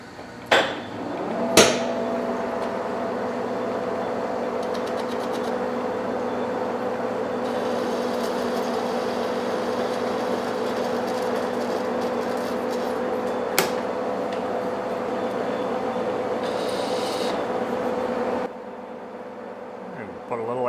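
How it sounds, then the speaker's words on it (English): A manual lathe facing and center drilling a steel shaft for an etching press roller, giving a steady humming machine whine broken by a few sharp metallic knocks before the sound drops off near the end. "We're gonna go ahead, face it off, center drill it, and then flip it off, face it, center drill the other end"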